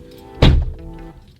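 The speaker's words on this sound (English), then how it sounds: "I'm just gonna open and close the door" A car door on a Camaro swings open and shuts with a single solid thunk near the start, followed by a softer settling clunk, close by against a faint steady hum.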